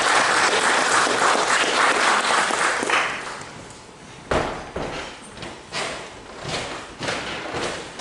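The audience at a paranormal convention talk gives a burst of loud applause for about three seconds. It then fades into sparse, separate claps and a few dull thumps.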